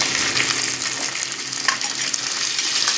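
Shallots, garlic, green chilies and curry leaves fry in oil over low flame for a fish curry, a close, continuous crackling sizzle with faint stirring scrapes.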